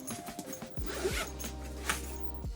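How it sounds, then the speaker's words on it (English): A zipper on a VSGO camera backpack is pulled open in one long run, its rasping teeth close and clear, with a few shorter tugs and catches along the way. "Then you can also zip the whole dang thing down."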